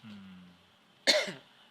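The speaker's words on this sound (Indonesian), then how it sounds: "Gara-gara nasi goreng kita jadi batuk deh." A single sharp cough, close and fairly loud, breaks in after a stretch of faint low hum, with a brief rasping tail.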